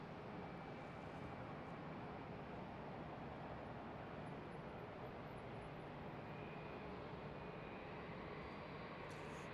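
An Airbus A320-family airliner on final approach at Charlotte airport, a steady broad jet roar at a distance filling the whole stretch, with no talk.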